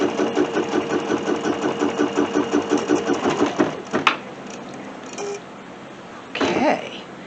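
A sewing machine stitches quilting lines through fabric with navy blue thread, running in a fast, steady mechanical rhythm for about four seconds, then stopping, with a few short whirs afterward.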